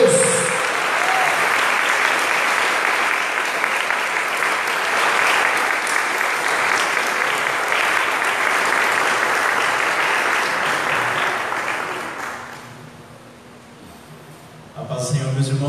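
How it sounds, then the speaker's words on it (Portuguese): A church congregation applauds in a sustained burst of dense clapping, loud and even for about twelve seconds before fading away, with a voice starting to speak as it dies down. "Nós vamos aplaudir a Senhora pela vida do nosso evangelista hoje"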